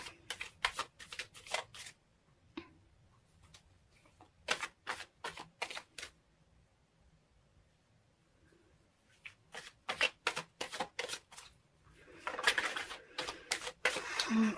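Tarot cards being shuffled in several bursts of rapid, crisp riffling and snapping, close by, with quieter gaps between bursts and no talking.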